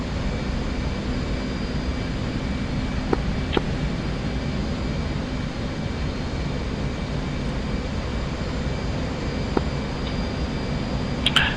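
An F/A-18C jet in DCS flight simulation sits at a steady, loud engine roar during a cliff takeoff, a constant broadband jet rumble with a few faint clicks and no talk.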